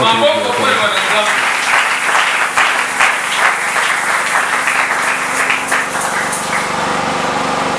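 A church congregation applauds loudly at a French-language prayer service, with steady, dense clapping that fills the whole stretch and voices mixed in beneath it.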